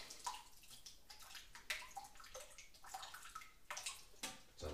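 Water dripping and trickling from an old aquarium filter, faint and close, with irregular splashes and drips over a quiet background.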